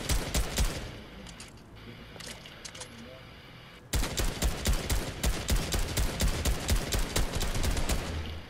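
AK assault rifle fire in Fortnite, with rapid bursts of sharp, loud shots; a short string at the start, a quieter lull, then a sustained run of evenly spaced shots dominating the second half.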